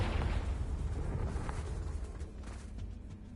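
A Confringo explosion spell bursts in a Harry Potter video game, a loud blast at the start that decays into a long rumbling, crackling tail fading over three seconds.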